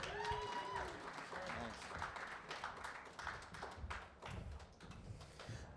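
A panel audience at NFT.NYC 2022 applauds, with scattered clapping and taps at very low level and a few voices mixed in.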